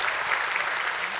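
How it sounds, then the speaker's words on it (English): Audience applause fills a listing ceremony for Netweb Technologies India Limited at the BSE: a dense, steady wash of clapping from a crowd, sustained and fairly loud throughout with no voices on top. "let us have a resounding of claps"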